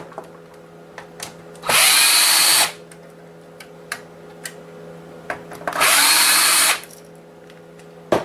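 Power drill backing security Torx screws out of an old game console, two loud whirring bursts of about a second each, close up, separated by quiet stretches with small clicks and handling noises.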